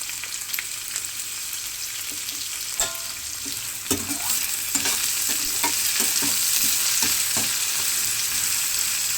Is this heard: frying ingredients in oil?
yes